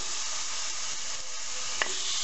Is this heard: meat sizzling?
yes